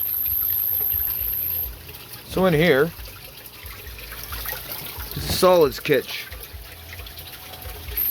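Water trickles and splashes steadily through a koi aquaponics solids filter, a continuous near wash of flowing water running beneath someone talking throughout.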